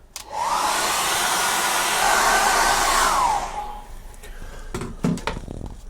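A hair dryer blows steadily on an acrylic painting for about three seconds, a loud close whoosh that cuts off and leaves a few light knocks and handling sounds.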